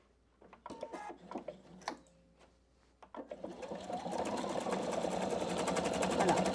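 A PFAFF Expression 720 sewing machine sews a pouch. Scattered clicks and handling sounds come first, then the motor starts and runs in a steady, rapid stitching buzz.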